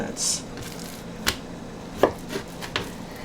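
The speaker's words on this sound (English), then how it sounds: "I'm cutting them fairly slimly, I was going to say, thinly, into thin strips." Knife slicing meat into thin strips on a cutting board for Korean japchae, a few sparse, sharp chopping taps spaced irregularly, fairly faint and close, with no talking during the cuts.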